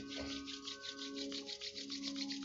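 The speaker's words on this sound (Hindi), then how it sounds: "पामिंग, हथेलियां रगड़ लें आपस में" Palms rub together steadily in a quiet room, a soft continuous dry swishing rasp with a gentle back-and-forth pulse, close and alone without any talking.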